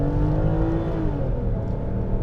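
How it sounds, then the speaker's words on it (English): A 2011 Volvo XC90 SUV with about 130,000 miles accelerating, its engine giving a steady loud droning roar that rises slightly in pitch, heard close and continuous with no talking. "something about that engine, it's so loud the way it comes on"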